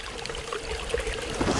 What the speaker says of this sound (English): Oh, is this a stream?